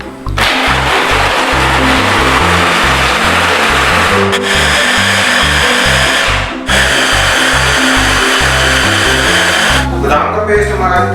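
Electric blender grinds soaked almonds with a little water into a smooth paste, a loud steady motor whine running continuously with brief dips in pitch as the blade load shifts.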